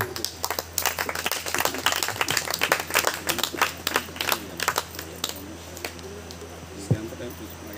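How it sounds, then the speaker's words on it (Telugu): An audience at a Telugu church service claps to welcome the pastor: a steady burst of many sharp, uneven hand claps, fairly close, with a few louder claps near the end. "చప్పట్లు కొట్టి ఆహ్వానిస్తున్నాం"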